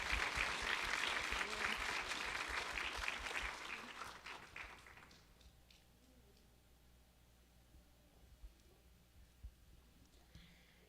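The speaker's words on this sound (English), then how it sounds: "So if we could give Wyatt one round of applause" An audience at a children's ambassador competition claps loudly and densely for about five seconds, then the applause thins out and fades into a quiet room with a few faint scattered sounds.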